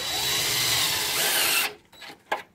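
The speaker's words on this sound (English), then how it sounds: "let's go ahead and run these screws" A power drill driving a screw into a screen door frame, a loud close whine that runs steadily for over a second and a half, then stops, followed by a couple of faint clicks and knocks.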